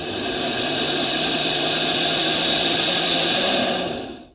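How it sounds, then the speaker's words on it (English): A North American bull snake lets out a loud, sustained hiss, a broad airy rush that holds steady for about four seconds before cutting off abruptly, close to the listener. "There's nothing that can hiss as loud as a North American bull snake."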